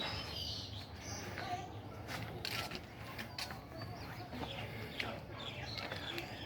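Chickens clucking faintly amid a noisy outdoor background on a rooftop garden, with scattered bird calls and occasional creaks, no voices standing out.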